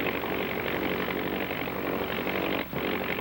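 An autogiro aircraft taxiing across the airfield, its engine and propeller producing a steady, loud droning roar that continues throughout with only a brief dip near the end.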